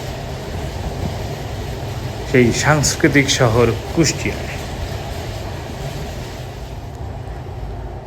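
Steady rumble of the Sundarban Express passenger train running from Dhaka to Kushtia in heavy rain, heard from the open carriage door, a constant low drone as someone talks briefly over it.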